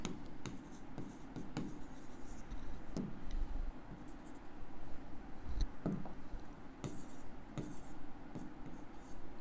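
A pen writing on paper during an accounting lesson, with steady close scratching strokes and small taps running continuously over low room hum, with no talking.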